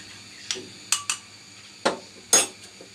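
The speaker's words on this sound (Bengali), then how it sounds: "আমি এই কাস্টার্ডটা নেড়ে নেড়ে দিয়ে দিচ্ছি" A spoon clinks against a pot while carrot custard semai is stirred, giving six or seven sharp, separate metallic taps at an uneven pace, close and fairly quiet, with no voices.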